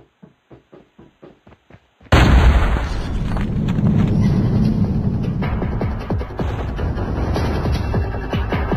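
A frag grenade in Call of Duty going off with a sudden loud boom after a quiet run of soft ticking clicks, followed by a long rumbling roar and scattered crackling debris.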